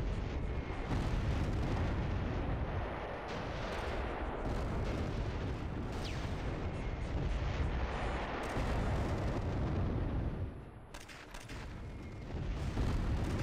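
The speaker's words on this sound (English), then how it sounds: "Man, is this artillery barrage gonna ever stop?" Continuous artillery barrage and mortar explosions in the Close Combat 3 war game, a dense rumbling stream of booms and blasts that keeps going without letup, dipping briefly near the end before resuming, with no talking.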